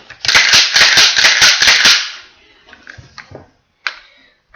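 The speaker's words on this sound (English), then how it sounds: "And also slam fire your gun" A rapid string of sharp, close gun reports from slam firing, about eight loud cracks in two seconds, followed by fainter mechanical clicks and a single later snap.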